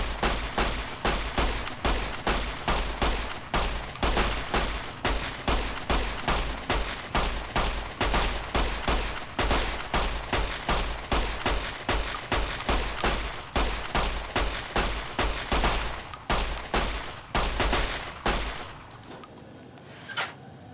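Sustained gunfire in the video game Fallout: New Vegas, set in the Mojave Wasteland, rattles out as loud, rapid, evenly spaced shots for nearly twenty seconds before stopping abruptly.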